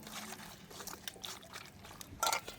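Water is poured into a pot of meat before cooking, a faint trickling splash with a brief louder gush near the end.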